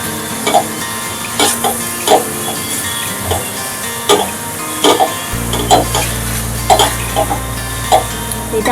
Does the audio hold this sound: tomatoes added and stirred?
yes